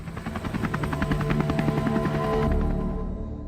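A helicopter leaving a monastery in Montenegro beats out loud, rapid rotor thumps over a constant engine whine. The sound grows slightly before fading at the end.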